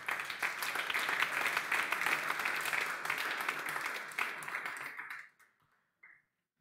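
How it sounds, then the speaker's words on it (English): An audience applauds the speakers at the close of a student challenge pitch event, a dense, steady burst of many hands clapping that fades out after about five seconds, followed by a few faint taps. "please another warm applause for the speakers"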